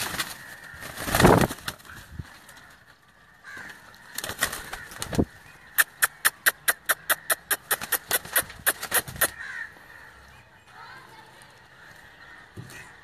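A domestic pigeon with a slightly crooked beak, kept by a Pakistani fancier, gives a quick run of a dozen or so regular wing claps in the middle, framed by a few thuds and people talking nearby.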